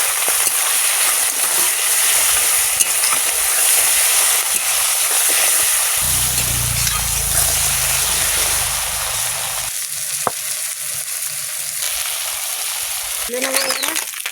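Puti fish sizzling as they drop into hot mustard-style oil for a tomato jhal, a loud steady crackle of frying that swells midway and continues unbroken.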